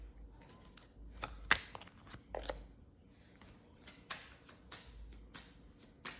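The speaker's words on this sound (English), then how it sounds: "I forgot to shuffle them in" A deck of tarot cards is shuffled in soft, scattered riffles and taps, with a couple of sharper flicks standing out over a quiet room.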